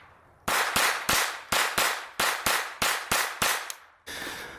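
Gunshots from a firearm at a shooting range, about ten sharp loud cracks fired in a steady, evenly spaced string, each with a short decaying tail, followed by a brief noisy pause.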